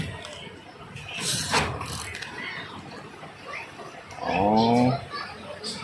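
A wind-up toy construction truck's steady mechanical whirring and ratcheting, close by, with a voice speaking briefly near the end.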